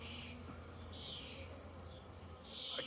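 Honey bees swarming over an open hive frame, a close, continuous buzzing with several individual bees droning past near the ear, fairly faint overall.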